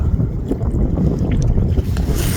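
Steady, rough wind buffets the microphone at Dangam port on a rainy, blustery day while walking-style fishing for cuttlefish and webfoot octopus, a constant low roar with no break.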